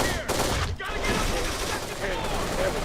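Rapid bursts of gunfire crackle from a firefight in the video game Kane and Lynch 2: Dog Days. The shots come loud and dense, overlapping with voices.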